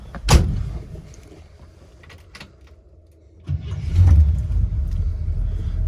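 A 1968 Chevrolet Camaro SS396 with its big-block engine cranks with a sharp burst, goes quiet for a moment, then fires and settles into a loud, deep, steady rumble close by.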